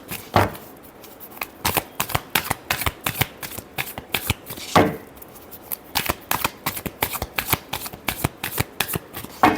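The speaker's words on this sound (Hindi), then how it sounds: "Last shuffle." Tarot cards are shuffled by hand, a close, crisp riffling with rapid repeated flutters and a few sharper snaps, steady throughout with no talk.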